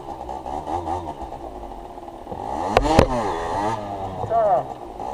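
A motorcycle engine idles and revs in rising and falling bursts as the rider works the clutch, with a sharp surge near the middle, close and fairly loud.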